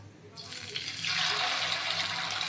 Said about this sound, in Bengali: এক এক করে আমি মাছ এর মধ্যে বসিয়ে দেবো হ্যাঁ ভেজে নেব আগে তেল গরম হয়ে গেছে